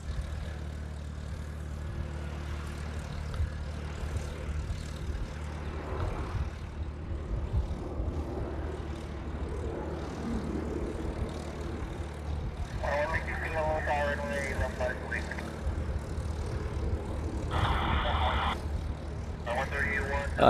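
A Boeing 757-300 airliner taking off from LAX drones steadily in the distance, a low rumbling hum that swells slightly, with faint voices and scattered higher tones near the end.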